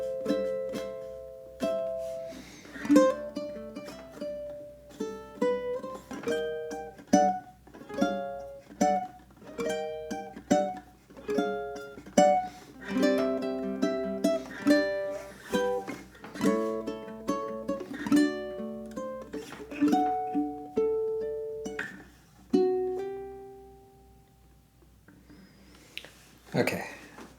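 Bars 8 to 14 of Queen's Bohemian Rhapsody picked on a ukulele: a run of clear plucked notes and chords at a moderate pace, fairly close, with a brief pause and a final strum near the end.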